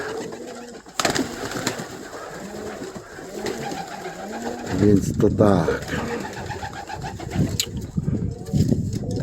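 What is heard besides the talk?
pigeons cooing in a loft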